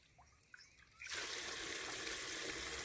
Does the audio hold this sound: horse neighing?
no